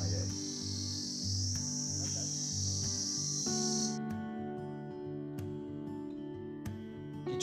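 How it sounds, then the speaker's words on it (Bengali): Crickets chirp in a steady, loud high-pitched drone from a forest beside a quiet village road near Aritar Lake in East Sikkim, then cut off abruptly partway through, leaving low background hum. "খালি জঙ্গল থেকে ঝিঝি পোকার ডাক শোনা যায়।"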